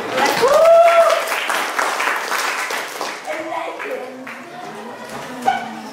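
An audience claps at a formal Indonesian teacher-certification session. The clapping is loudest at the start and thins over the following seconds, with a brief tonal vocal sound early on and speech-like sounds entering as it fades.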